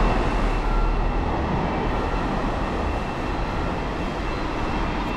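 A JR Tokaido Line train passes near Abekawa Station in Shizuoka, producing a loud, steady broadband rumble and roar that holds throughout with no pauses.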